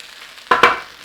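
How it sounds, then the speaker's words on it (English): Stock poured into a hot pan of pork for a pork and apple cottage pie, two quick loud bursts of sizzling hiss that rise sharply then taper off, close and without talk. "And we'll chuck our stock in."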